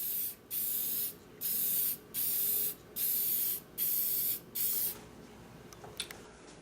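Lacquer is sprayed onto textured, coloured wood in six short hissing bursts with brief pauses between them, loud and close, followed by quieter handling sounds.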